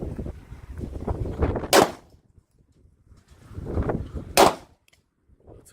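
Two sharp 9mm handgun shots fired at a water jug target outdoors, several seconds apart, each a loud crack following a stretch of low rumbling background noise.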